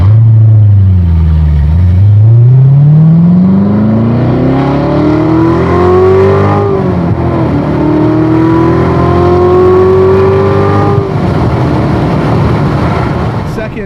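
A C7 Corvette Z06 under hard acceleration, loud and close, engine note climbing steeply through the gears with distinct shift drops, a sustained aggressive roar from start to finish.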